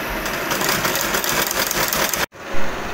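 A sewing machine stitches fabric pieces for a child's pants, a steady loud mechanical whir running continuously for about two seconds, then cutting out abruptly before a brief thump and quieter hum.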